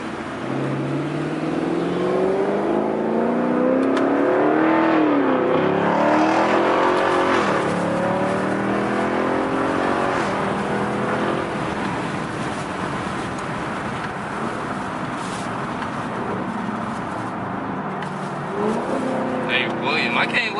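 A 2016 Camaro SS fitted with a Pedal Commander, heard from inside, accelerates hard with a loud rising engine growl through several upshifts before settling into a steady cruising drone, with people talking over it.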